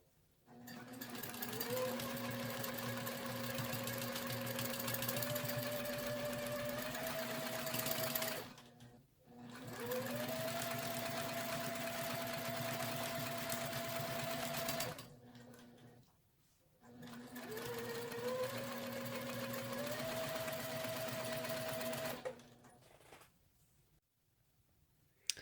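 A domestic sewing machine stitches straight lines across a quilted table topper in three long steady runs, each a loud even hum with a motor whine rising at the start, separated by short pauses while the fabric is repositioned.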